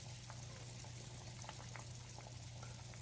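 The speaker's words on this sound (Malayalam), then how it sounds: "അപ്പോൾ നമ്മുടെ സൂപ്പ് ഇവിടെ നല്ലോണം തിളച്ച് വന്നിട്ടുണ്ട്" Chicken soup boiling hard in a cooking pot, a steady close-up rolling bubble with dense crackling pops and hiss and no voices throughout.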